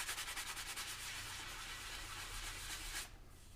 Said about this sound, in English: I just give them a little light sanding all around just to smooth them out for finishing.